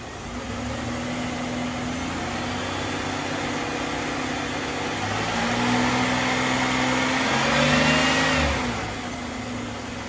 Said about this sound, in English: I'm gonna have Devin rev it up